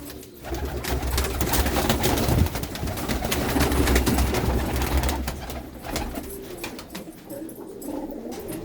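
Low, throaty cooing from a flock of fancier's pigeons in a Punjabi village fills the air, many birds overlapping nearby, swelling louder in the middle and easing toward the end, with no speech.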